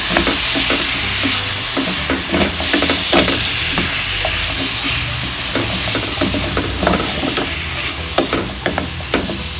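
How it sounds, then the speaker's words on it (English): Sliced apples sizzle and crackle in melted butter in a pan for apple turnover filling, with a steady loud frying hiss and frequent scraping stir strokes throughout. "butter is melted, we can go ahead and add our apples"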